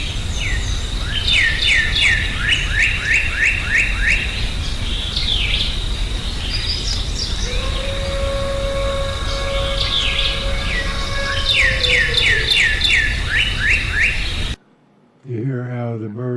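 Birds chirp and trill in repeated bright bursts over a steady outdoor hiss, with a long low howl rising midway before the sound cuts off near the end.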